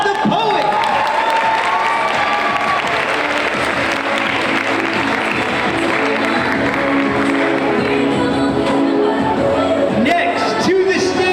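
A school audience applauds a ninth-grade poet at a high school poetry slam: dense, steady clapping with scattered cheers and shouts that holds loud and continuous throughout.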